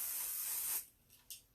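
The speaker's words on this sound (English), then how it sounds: "just a little hairspray" Hairspray hisses from an aerosol can onto hair in one long close spray, followed by two short quick bursts.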